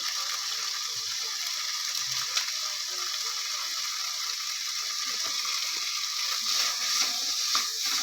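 Tomato sautés with coriander and cumin powder in a pan, making a steady, close hiss of sizzling with faint clicks from stirring throughout.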